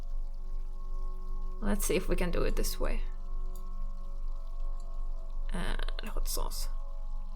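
Ingredients being poured into a shaker in a point-and-click adventure game, two short bursts of liquid splashing and trickling, each mixed with someone talking over a steady low hum.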